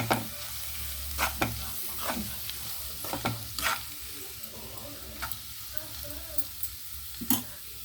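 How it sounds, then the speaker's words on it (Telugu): Onions frying in oil for an egg curry, stirred repeatedly in the pan: a steady sizzle broken by regular scraping and clattering strokes of the spoon, close and fairly loud, with no voices. "చూడండి ఒకసారి మళ్ళీ కలుపుతున్నాం"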